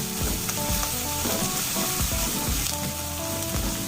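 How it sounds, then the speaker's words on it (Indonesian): Garlic stir-fried in a pan for Taiwanese-style beef noodle soup, with loud steady sizzling and frying and repeated scraping and stirring knocks, close up, with no talk. "Tumis lagi bersama dengan bawang putihnya."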